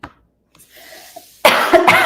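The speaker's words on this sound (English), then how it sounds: "I have this really annoying cough and it just like randomly pops up." Two coughs: a faint one at the start, then a louder, harsh burst of repeated coughing after a short quiet pause.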